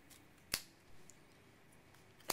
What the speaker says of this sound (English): You'll want to use a pair of heavy scissors so that that cuts through without any problems.